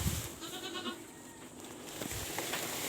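Goats at feeding time bleat in short wavering calls over a steady, quiet background hiss. One bleat comes early and fainter ones follow later, with no talking.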